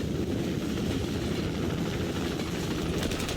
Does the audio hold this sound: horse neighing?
no